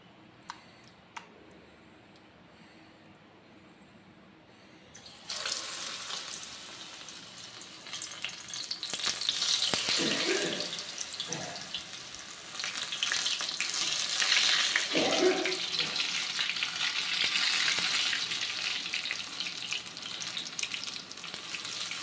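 Banana flower pieces frying in a pan of hot oil, quiet at first and then breaking into a loud, steady crackling sizzle with scraping stirs that swell toward the end, heard close up with no talking.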